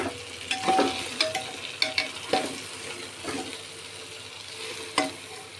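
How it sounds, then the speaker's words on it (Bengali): Eggplant fries in a pan with coriander powder and is stirred, a steady sizzle broken by several sharp scrapes and clacks of the spatula near the mic, with no talk. "এখন এই সময় এর মধ্যে দিয়ে দেব 1 চামচ ধনে গুঁড়ো, দিয়ে আবার ভালো করে নেড়ে নেব"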